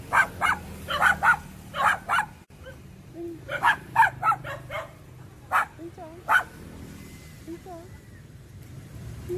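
A dog barks in short repeated bursts, several quick barks in clusters with brief gaps, mixed with a person talking over and between them.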